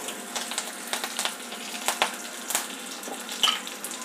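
Curry leaves crackle in hot oil for a Navaratri sundal, with a crisp, bubbly sizzle broken by sharp spitting pops at close range.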